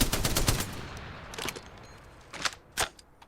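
Bursts of M600 Spitfire light machine gun fire in Apex Legends: a dense rapid volley at the start, then shorter separated bursts, loud and sharp with no talking.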